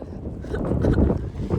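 Cold, gusty wind with snow and rain buffets the microphone in a low, rumbling rush, steady and close with no voices, in Iceland.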